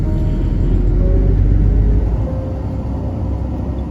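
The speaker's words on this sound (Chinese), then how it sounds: "随和站门口的卧铺大巴们统一打着双跳灯出发" Sleeper buses pulling away together from a station at midnight with hazard lights flashing, a heavy low engine rumble that holds steady and then eases slightly as they move off, with no voices.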